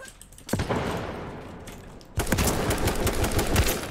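Gunfire in the online battle royale game Z1 Battle Royale: a single sharp shot, then a denser burst of rapid shots and impacts after a short lull, loud and close with no talking.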